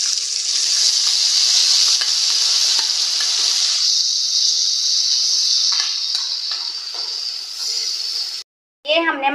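Masala of chopped fresh spices mixed with dry spices fries in a pan for stuffed tinda, giving a loud, steady sizzle with occasional stirring scrapes that fades slightly before cutting off near the end.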